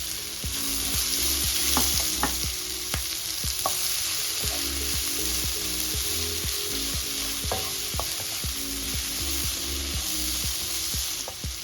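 Garlic and white onions fry in a pan with a steady close sizzle, joined by repeated sharp clinks and scrapes of stirring throughout, with no talking.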